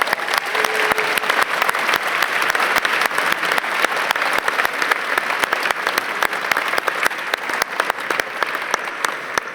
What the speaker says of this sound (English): Please give them a big round of applause for their support.